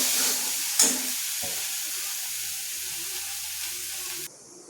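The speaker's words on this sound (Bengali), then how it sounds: "ভালো করে আমি নেড়ে নেব, নাড়াচাড়া করে নেব।" Cumin and spices sizzle and hiss steadily in a hot pan while being stirred, with a sharp clink of the spoon near the start and the frying continuing close and loud throughout.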